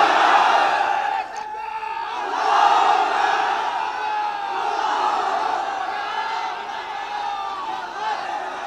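A large crowd at an outdoor Islamic sermon gathering in Rajshahi roars "Allahu Akbar" together in reply to a takbir call, a loud sustained massed chant with swelling waves of voices.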